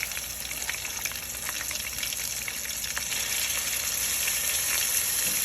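Ground garlic and cinnamon stick pieces sizzle steadily in hot oil in a frying pan, a dense close-up crackle and hiss with no talking.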